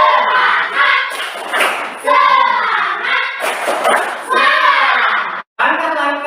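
Classroom group doing the 'tepuk semangat' clap, bursts of rhythmic clapping and thumps mixed with children's chanting voices, close and loud, with a brief pause near the end.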